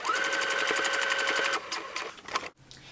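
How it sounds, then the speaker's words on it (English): A sewing machine runs steadily along the seam of a pair of shorts, its fast, even stitching hum loud and close for about a second and a half. It then slows into a few uneven bursts and stops abruptly. "just going to stitch right along this seam and right along the other seam"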